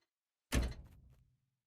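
A single car door in the Drive Beyond Horizons driving game, on a Citroen that opens only a short way, gives one close, solid thunk that rings out briefly over a quiet background.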